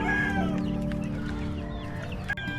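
Chickens cluck close by while chicks peep continuously underneath at feeding time, a busy, steady farmyard chatter.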